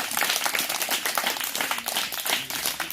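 Audience at an evangelism gathering clapping in acclaim, a dense, continuous patter of many hands at fairly loud level, steady throughout with no pause or voice on top.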